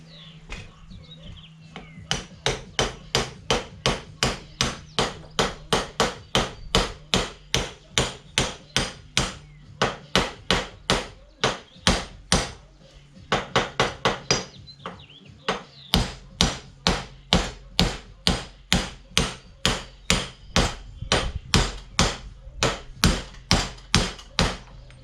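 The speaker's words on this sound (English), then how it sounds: "I am going to have to punch the bearing onto the shaft because I had to do that last time." Sharp metallic hammer blows land in long, steady runs, dozens of strikes, as a bearing is punched onto the shaft of a Woods 6215 mower, with a brief pause midway.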